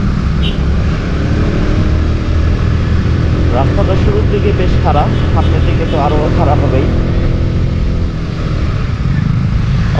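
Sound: motorcycle engine in low gear climbing a bad mountain road

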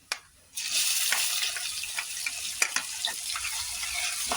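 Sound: ginger garlic paste sizzling with cumin and whole spices in oil

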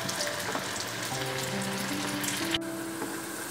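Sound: poha vada (flattened rice dumplings) deep frying in hot oil

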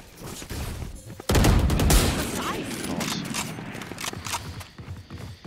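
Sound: gunfire shooting a wall in Valorant video game

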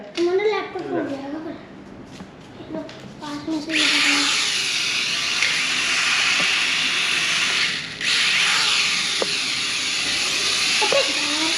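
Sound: toy drone flying indoors

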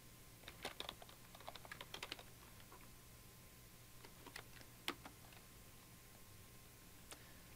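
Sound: typing on a computer keyboard

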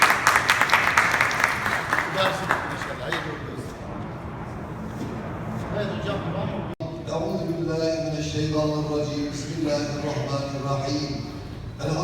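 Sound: audience applause at ceremony

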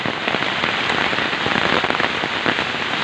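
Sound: heavy rain and hail falling

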